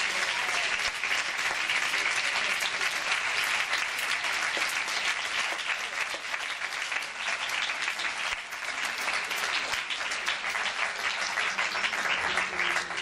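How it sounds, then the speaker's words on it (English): An audience at a school Model UN closing ceremony claps continuously in a full, steady round of applause lasting over ten seconds with no pause, bright and fairly close. "so they deserve another applause"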